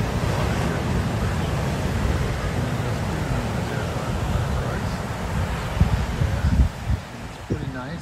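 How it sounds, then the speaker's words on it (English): Wind and ocean surf at the beach at D.T. Fleming Park, a loud, steady rush of gusting wind over the microphone and a rumble of waves, with a person talking over it. "The waves aren't too bad."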